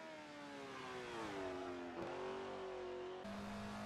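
The mid-mounted V8 of an Alfa Romeo 33 Stradale in Assetto Corsa revs and climbs through the gears, a steady, close engine note with a brief shift dip, no voices.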